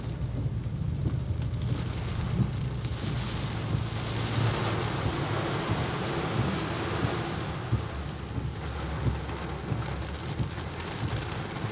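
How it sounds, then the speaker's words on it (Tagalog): Torrential typhoon rain pours down on a road, a loud, continuous dense hiss of drops striking surfaces with a low rumble beneath, unbroken throughout. "sobrang lakas ng ulan"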